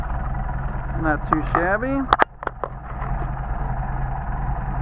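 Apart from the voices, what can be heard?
Mercedes 190SL engine with Solex carburetors idling at 500 RPM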